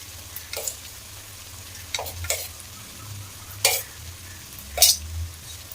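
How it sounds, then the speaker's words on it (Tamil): Masala sautéing in oil in a pan for Tamil-style fish curry, a soft steady sizzle broken by a few sharp scraping stirs of a spoon against the pan, close and fairly quiet, with no talking. "நல்லா மசாலா நல்லா வதங்கி எண்ணெய் பிரிஞ்சு வருது"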